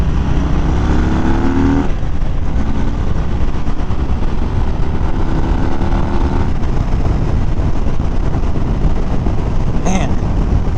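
A 2018 Harley-Davidson Fat Bob 114 motorcycle on a test ride, its engine rumbling steadily and loudly throughout with strong wind rush, and faint rising tones as the rider shifts and accelerates.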